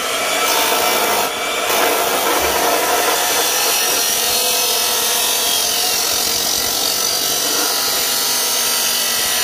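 A piece is cut off while building a step for a Farmall Super A tractor, a loud continuous rasping cut running steadily for nearly ten seconds, briefly dipping near the start, with no talking.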